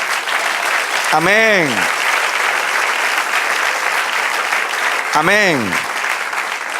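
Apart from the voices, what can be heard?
congregation applauding in church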